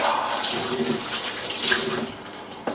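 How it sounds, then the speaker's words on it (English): Hands being washed under a running kitchen tap after chopping onions, a steady close splashing stream with soft rubbing variations, no talking. "I better wash my hands out"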